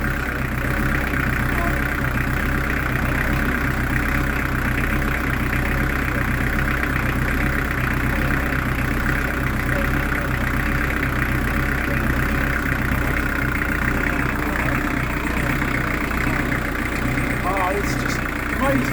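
A car engine idles steadily close by, its low rumble running unbroken and surging slightly in level, while people talk over it.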